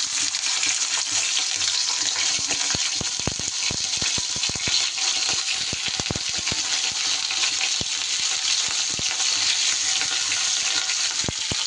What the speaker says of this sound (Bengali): হাই ফ্লেমে একটু নাড়াচাড়া করে নেব ঘিয়ের মধ্যে